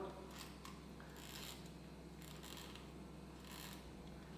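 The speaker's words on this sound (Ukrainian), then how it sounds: "Працюють два сповільнювачі, два анкерних механізми на е, швидкості затвору або витримці 1-2 секунди." Kiev Contax rangefinder camera shutter running on its two slow-speed escapement mechanisms at a 1–2 second setting, a faint, steady mechanical whirring and ticking heard very close under low background hiss.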